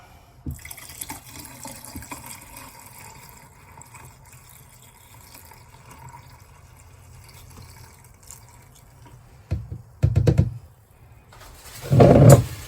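Liquid poured down a shower drain in an Airstream travel trailer being winterized: a faint, low trickle runs through most of the stretch, then two louder gurgling glugs of pouring and draining come near the end.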